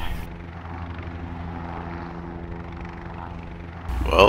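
Helicopter in a video game, a steady rotor and turbine drone holding loud and even for several seconds before a brief louder burst at the end.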